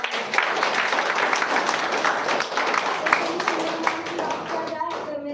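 A group claps to welcome guests, giving steady, moderately loud applause with some sharper individual claps. It tails off near the end, where a voice begins.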